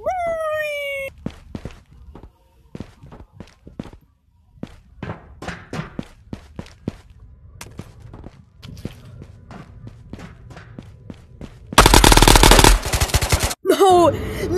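Rapid gunfire in the video game Ghosts of Tabor, a string of sharp shots in quick bursts and single cracks spread through the clip, followed by a loud, dense burst of noise near the end.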